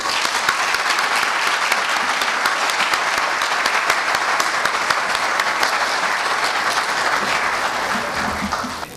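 A large crowd at an international finance summit cocktail evening claps warmly for a group CEO, a loud, thick, unbroken round of applause that holds steady and fades slightly near the end.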